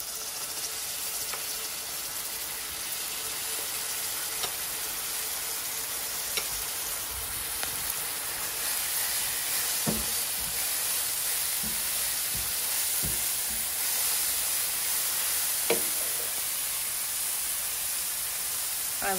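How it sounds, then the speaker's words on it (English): Garlic hitting well-sautéed onions in a pot for a Guyanese seven curry, a continuous bright hissing sizzle with occasional small clicks and pops from stirring, close and steady with no speech. "I will go in with my garlic."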